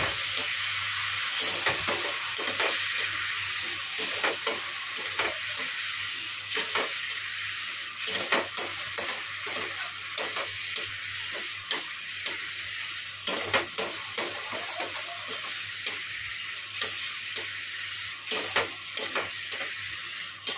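Potatoes with crushed ginger and cumin powder sizzle steadily in a pan, with frequent scraping stirs giving a rhythmic series of clicks over the continuous frying hiss.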